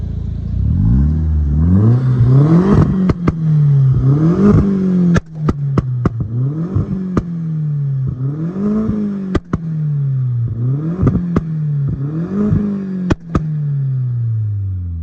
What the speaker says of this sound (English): now we are going to listen to the beautiful pops and bangs and this very sophisticated exhaust